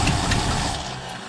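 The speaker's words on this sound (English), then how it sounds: "All right, y'all, it fired. I pour gas in it." A 1968 Ford F100 truck engine fires after gas is poured in, running rough and loud at close range with a broad, uneven roar that thins out near the end.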